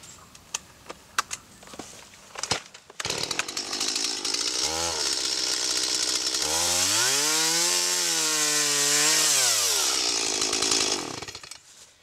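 A chainsaw cuts through a cantilevered tree branch, first ticking over with a few blips, then revving to a loud, sustained scream as it bites into the wood and slowing again near the end of the cut.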